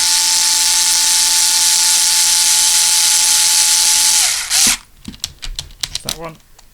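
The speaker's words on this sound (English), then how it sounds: "IXO, by the way, to screw them in because they're quite long screws." A Bosch IXO cordless screwdriver drives long screws into a Tamiya TT01 E drift car chassis, making a steady high whine for several seconds that winds down and stops, followed by scattered clicks and handling noises.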